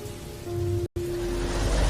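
Rain falling at night, a steady wash of patter with a faint tonal hum in the background, cut by a brief moment of silence midway before resuming more heavily.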